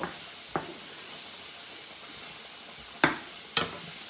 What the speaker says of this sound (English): And then I'm going to add in about 4 cloves of garlic, minced garlic, to this and cook it another minute or so.